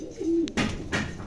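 Bokhara pigeons coo in a brief, close call: a low throaty coo followed by a couple of softer rustling bursts, with no one talking.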